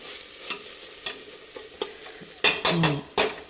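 Ginger garlic paste frying in a hot pan, with bursts of sizzling and scraping as it is stirred, growing louder near the end. No one talks.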